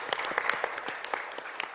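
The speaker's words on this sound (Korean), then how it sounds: "박수로 좀 보내주시면 감사하겠습니다." Scattered, fairly quiet clapping from a small group closing a forum session on U.S.-China strategic competition, with distinct individual claps rather than a full roar.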